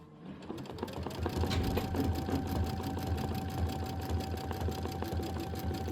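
A sewing machine stitches down a quilt block, running with a steady, close mechanical whir and rapid needle rhythm for the whole span after a brief start.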